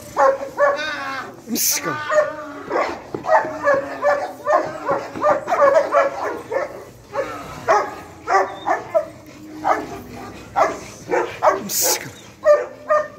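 A dog barks in short repeated yips and whimpers during a catch-and-hold training session, close by and excited, with someone talking and encouraging it throughout.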